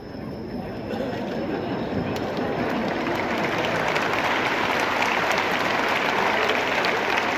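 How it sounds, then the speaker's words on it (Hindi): Sustained, loud applause from a school audience at a Happiness Festival event, dense clapping filling the whole stretch with steady intensity and faint crowd murmur underneath. "आपने किसके लिए ताली बजाई?"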